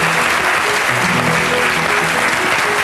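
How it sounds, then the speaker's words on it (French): A studio audience at a French TV Christmas show applauds loudly in a dense, continuous roar of clapping for the whole stretch. "Sous vos applaudissements, Elsa et Étienne Dao."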